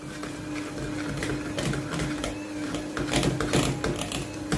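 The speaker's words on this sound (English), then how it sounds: "we're going to be adding the cream cheese as well as the sour cream and the butter. And we're going to mix on low." An electric mixer on low speed blending mashed yams with cream cheese, sour cream and butter, a close, steady mechanical whir with rhythmic clattering beats against the bowl and no talking.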